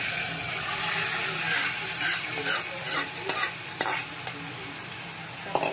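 Marinated chicken sizzles steadily as it is sautéed in a pan for a Malvani chicken recipe, with a few louder scraping stirs toward the end.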